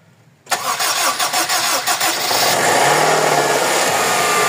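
A second-generation Honda CR-V with a K20 engine, under repair for overheating, cranks briefly and catches, settling into a steady close idle with no talking.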